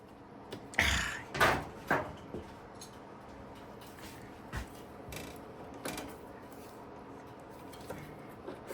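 A stiff fuel valve on an Ariens Deluxe 30 snowblower is turned, giving a few close, hard clunks and scrapes in quick succession near the start, then quieter faint handling knocks, with no talking.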